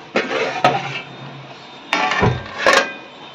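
A metal pot lid lifted off a pot of sago khichuri cooking on the stove gives a few sharp clanks and scrapes, close and clear, in a quiet kitchen.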